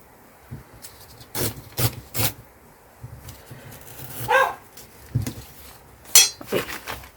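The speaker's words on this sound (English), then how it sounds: "The dog is barking to go out in this 2 seconds" A dog barks to be let out, sharp barks in short bursts and pairs scattered among nearby rustling and light clinks of crafting materials, fairly close.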